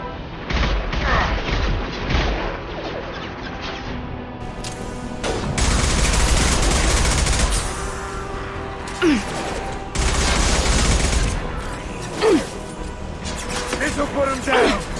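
Heavy gunfire in the Mass Effect 2 video game, recruiting missions on Omega: sustained bursts and volleys with loud booming impacts and mechanical clatter, the fire coming in several waves, with talk in places.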